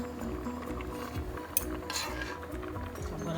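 Chopped vegetables going into a cooking pot for a vegetarian stew peas dish, with soft clatters, clinks of utensils against the pot and light stirring, close and moderately quiet.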